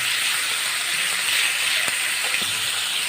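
Ivy gourd (kundri) frying lightly in a pan, a steady broadband sizzle with a constant hiss throughout and a couple of faint pops, with no talking.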